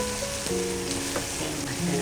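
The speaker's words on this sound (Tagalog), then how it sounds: "Garlic in." Garlic sizzles steadily in a hot pan for Filipino home cooking, with a few light scrapes of stirring partway through; close and continuous, with no talk.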